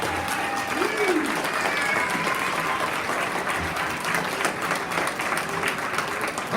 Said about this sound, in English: let's give them a round of applause for just doing an excellent job